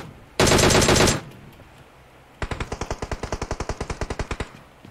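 Gunfire in PUBG Mobile: a loud sustained burst roughly a second long, then after a pause a rapid string of about twenty evenly spaced sharp shots, close and with no talking over them.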